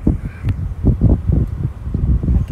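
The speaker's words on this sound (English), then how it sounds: "I can hear an animal, some kind of bird." A bird calls outdoors along a canyon road near farms and a residential area, the cries faint and scattered over a steady low rumble of wind and passing travel.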